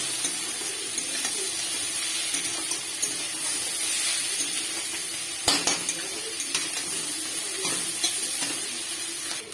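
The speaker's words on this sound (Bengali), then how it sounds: "তো এই মাছগুলো ভাজা হয়ে গেছে" Small kachki fish frying in hot oil in a pan give a steady, close, crackling sizzle throughout, with a few sharp clinks of a utensil against the pan.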